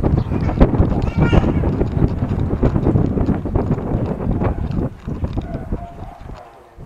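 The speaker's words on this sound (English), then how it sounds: "It's getting a bit windy up here now" Wind buffets a boat at Wat Sa Long Ruea in Kanchanaburi, Thailand, a steady loud rumbling roar across the whole clip that eases slightly near the end, with a voice speaking faintly underneath.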